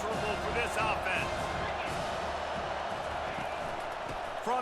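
Dense stadium crowd roar from EA Sports College Football 25 fills the whole stretch as a steady, loud wash, with a commentator's voice talking over it.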